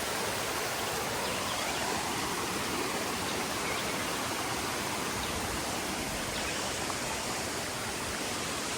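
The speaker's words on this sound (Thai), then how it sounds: "ด้านล่างเนี่ยเป็นน้ำตกทุกคนใจ่ไหม" A waterfall roars somewhere below in cold forested country, a dense, constant hiss of falling water that stays loud and unchanging, with no voices over it.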